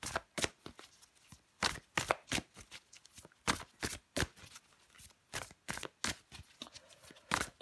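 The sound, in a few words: shuffling tarot cards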